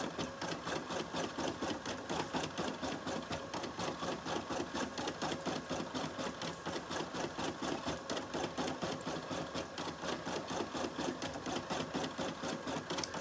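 Machine stitching a robe back, a continuous, even rattle of rapid needle strokes with a regular pulsing rhythm, close and moderately loud, running unbroken throughout.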